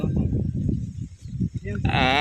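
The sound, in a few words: goat bleating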